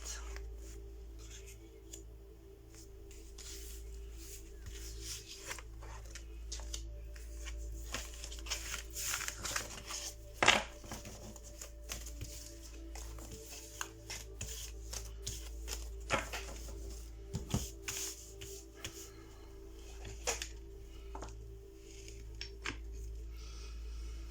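Oracle cards being shuffled and handled, soft scattered rustles and flicks with a few sharper snaps against a low steady hum, quiet and close, no voices.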